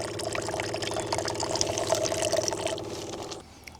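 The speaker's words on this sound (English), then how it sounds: "So as you can see, I'm producing nice, clean water." Clean water streams steadily out of a PUREWELL portable reverse-osmosis purifier for about three seconds, a close, continuous pour with a faint background hum, then stops abruptly.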